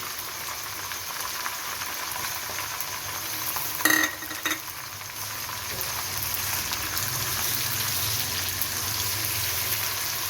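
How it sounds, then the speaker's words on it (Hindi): Steady broadband sizzle of chicken frying in a pan, with a brief clink of a utensil near the middle; no talking. "चिकन हमारा फ्राई हो रहा है"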